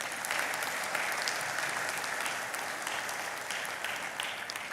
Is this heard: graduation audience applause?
yes